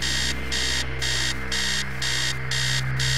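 Alarm clock blaring in the video game Stories Untold: a loud, shrill electronic beeping in steady on-off bursts, about two per second, repeating without pause over a low hum.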